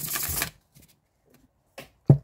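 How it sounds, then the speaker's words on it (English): A Corrupted Tarot deck gets shuffled: a half-second burst of riffling cards, then quiet, then two short taps as the cards are squared up. "It shuffles really well. I really like this cardstock for shuffling."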